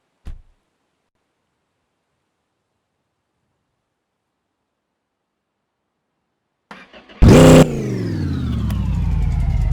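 A car engine with no exhaust fitted fires up after near silence and revs hard, a loud raw bark that holds as a steady rough roar to the end.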